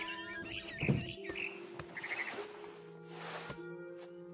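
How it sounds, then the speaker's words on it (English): A barn swallow in the video game What Remains of Edith Finch gives a few short, bright chirps and twittering calls over soft ambient game tones, moderately close, with no talking. "Then I heard chirping outside my window. It was a barn swallow going back to her nest."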